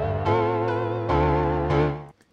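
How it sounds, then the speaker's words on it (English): A sustained synth tone from a free FM plugin processed with a tape wow effect, its pitch wavering slowly in repeated swells before cutting off, heard alone. "The next one I used to achieve some kind of tape effect called wow."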